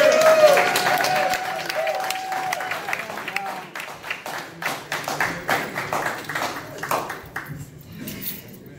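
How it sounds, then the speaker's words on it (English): Applause at a post-fight press conference for a boxer's bout, a broad wash of clapping from the room that thins into scattered individual claps toward the end, with some voices mixed in. "Please give a round of applause for Tom Loughlin for putting on this together."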